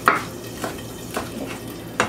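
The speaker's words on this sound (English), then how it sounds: "I'm gonna chop this parsley." A kitchen knife chopping fresh parsley on a board gives four sharp, well-spaced knocks over a low background hum. The knocks are close and moderately loud, and nobody speaks.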